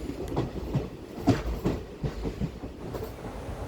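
The Ernad Express (Trivandrum–Mangalore train) running on the rails toward Mangaluru, with a steady low rumble and rhythmic wheel clatter heard from inside the coach, close and continuous without speech.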